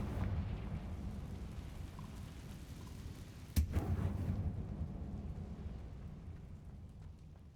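A Confringo blasting spell goes off in Hogwarts Legacy: one sharp, fairly faint crack midway through, followed by a rumbling burst that slowly fades into a low background wash.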